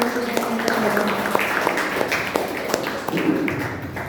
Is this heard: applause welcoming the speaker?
yes